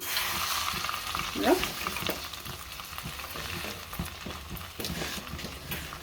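Gongura leaves frying in half a spoon of oil, with a crackling sizzle broken by repeated scraping stirs of a spoon against the pan, close by and moderately quiet.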